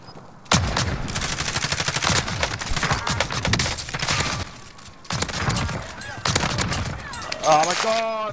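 Call of Duty: Modern Warfare gunfire fills the scene with rapid automatic bursts, dense and loud, broken by a couple of short pauses, with game effects and a chirping tone near the end.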